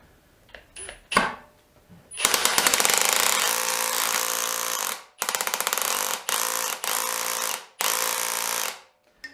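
Milwaukee M18 brushless drill whirring hard in reverse against a jammed chuck, loud close ratcheting bursts of several seconds each, stopping and restarting.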